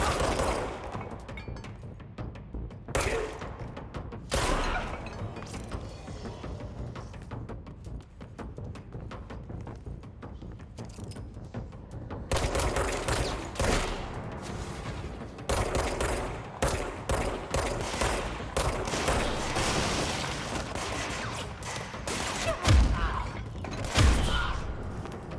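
Pistol gunfire in the shooter game Control, bursts of sharp shots and thuds clustering in the second half over a dense, continuous game soundscape, with no talking.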